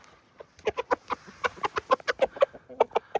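Rapid clucking and squawking from a fighting rooster, a busy run of short sharp calls close by, with a strained crowing cry near the end.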